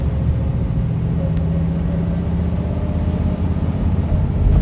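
A 1968 Chevrolet Corvette Convertible with side-mounted exhaust pipes, on a road test. It gives a steady, loud, deep rumbling drone with no pauses, close by, and swells a little toward the end.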